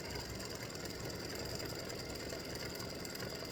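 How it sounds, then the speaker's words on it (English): An embroidery machine stitches out freestanding lace spider earrings, a faint steady mechanical whir with rapid fine needle ticking throughout and no other sounds. "these are the earrings stitching out right now"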